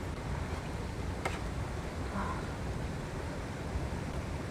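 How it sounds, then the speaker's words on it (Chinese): A mountain creek flows steadily past a campsite at Xiong Laoda campground in Fuxing, Taoyuan, a constant broadband rush with no talking, joined by a brief faint tick partway through. "这个熊老大露营区的溪水声，好好听哦。"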